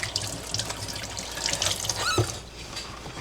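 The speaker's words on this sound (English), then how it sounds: "Let me wash my hand, folks." Hands are washed under a running kitchen tap, water splashing steadily with a brief squeak midway, close and alone with no voices.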